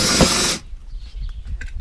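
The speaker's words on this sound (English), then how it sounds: "Now this will drill" A power drill whirs loudly and steadily through a stack of plastic buckets, then cuts off abruptly, leaving quiet handling noises close by.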